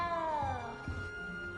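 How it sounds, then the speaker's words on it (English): A cat meows in the Harry Potter video game, a few soft plaintive mews over a quiet game soundtrack with a sustained tone. "You don't need to be frightened, little cat"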